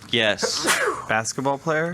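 A single quick, sharp sneeze in the middle of close, lively talk between people in a podcast conversation.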